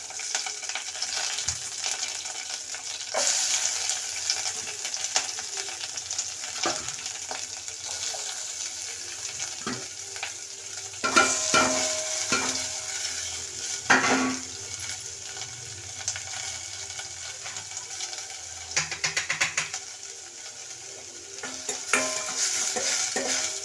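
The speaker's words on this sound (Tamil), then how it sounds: "நல்லா வதக்கிக்கலாம்" Chopped onion sautéing in a pan with curry leaves for an okra tamarind curry: a steady close sizzle with repeated stirring scrapes and occasional louder clatters throughout, no talk.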